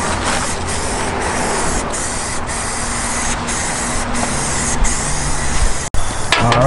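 Rattle-can spray paint hisses in a continuous loud broadband stream onto Toyota MR2 fenders, with faint periodic pulses and a short break near the end.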